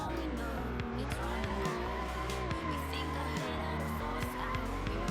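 Car drifting in a racing video game, the tires squealing in long wavering tones over a steady engine drone, loud and continuous throughout.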